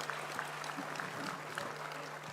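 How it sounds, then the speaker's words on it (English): An audience at a university convocation applauds the graduates, PhD awardees and medalists, soft, steady clapping that sounds distant in a large hall, with a low constant hum beneath it. "Let's give them another big round of applause."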